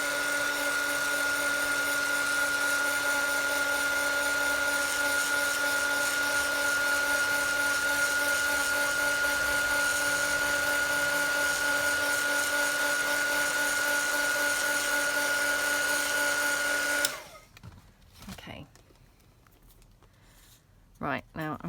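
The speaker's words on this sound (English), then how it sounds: "So let me just quickly dry this with my heat tool." Heat tool blowing steadily to dry gold on a decoupage journal card, a loud continuous whirring drone with a high whine that runs unbroken, then cuts off abruptly, leaving quiet handling noises.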